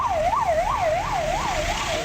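An ambulance siren wails on a bumpy, potholed road in the Nilgiris, a close, loud, steady up-and-down warble repeating about every third of a second over engine rumble.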